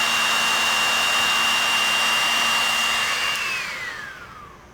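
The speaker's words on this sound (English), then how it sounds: "Don't really heat it up until I see just a little bit of the glue starting to ooze out from underneath the heat shrink" Heat gun blowing to shrink adhesive-lined heat shrink tubing onto large-gauge wire, a steady loud whooshing whine that winds down and fades at the end as it switches off.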